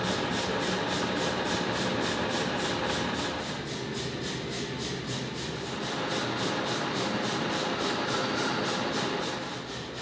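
A 1960s metal lathe runs in a shop during machine work, giving a steady droning hum with a fast regular ticking pulse layered over it, continuous and moderately loud, with no voices.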